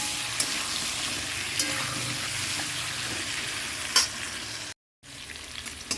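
Fish fries in hot oil with turmeric, a steady close sizzle with a few sharp pops and spatters; the sound cuts out briefly near the end and then resumes.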